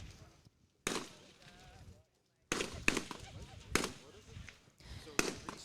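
Pistol shots crack at a tactical shooting competition from about 16 yards, several sharp reports spaced unevenly with brief pauses, and a commentator talks over them.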